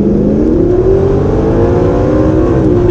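Audi R8 rally car accelerating at full throttle, a loud continuous engine roar climbing steadily in pitch as it pulls hard, close and sustained with no talk.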